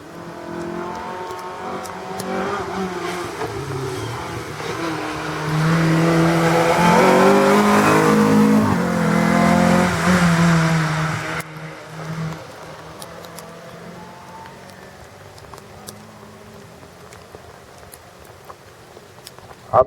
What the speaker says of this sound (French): c'est Michael Pesanti qui se présente. Deuxième de la Clio Cup hier, avec ses Clio Renault Sport